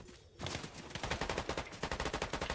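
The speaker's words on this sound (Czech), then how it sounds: "A už se tady střílí." Rapid automatic gunfire rings out in the Fortnite video game, a long burst of evenly spaced loud shots after a brief quiet start.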